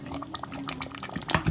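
Spoonfuls of coconut milk drop into a chicken curry, making quick wet plops and soft liquid splashes over a faint simmer, close up and brief with no talk.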